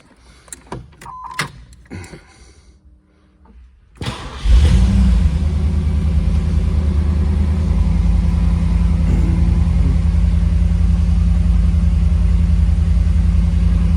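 An IROC Camaro G92 convertible with a five-speed cranks over and fires after a few seconds of small clicks and handling noises, then settles into a loud, steady close-up idle.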